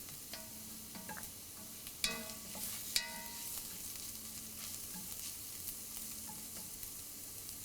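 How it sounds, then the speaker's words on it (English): Sliced onions with salt sautéing in hot oil for mushroom masala, a soft, low hiss with a couple of sharp spoon clinks against the pan partway through, heard alone. "Saute until the onions are light golden shade."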